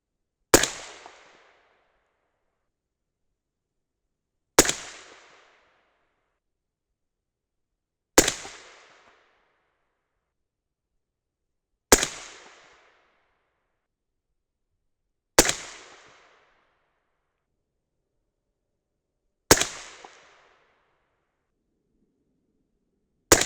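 Six sharp rifle shots at an outdoor range, firing Mk 262 clone test loads, each crack loud and close with a short decaying echo, spaced roughly four seconds apart with silence between.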